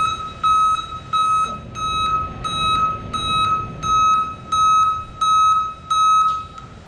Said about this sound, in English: Now for the Custer backup alarm, let's go ahead and hook it up.